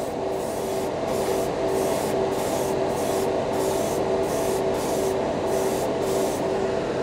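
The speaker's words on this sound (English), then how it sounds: "It's not as heavy as a spray pattern as my regular 105 Patriot." Badger Xtreme Patriot airbrush spraying paint up close at 18 PSI, a steady, loud hiss with short regular pulses as the trigger is worked, close to the microphone and without talking.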